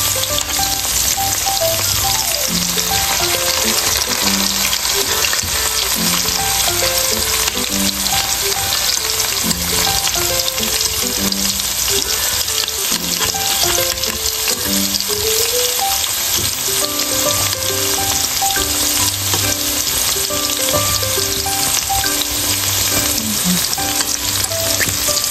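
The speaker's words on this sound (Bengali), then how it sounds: "একটু গোল্ডেন করে ভেজে নেব লাল লাল করে" Potatoes frying golden in oil for a Bangladeshi beef and potato curry give a loud, steady sizzle throughout, with stirring scrapes and a background tonal hum running under it, and no talking.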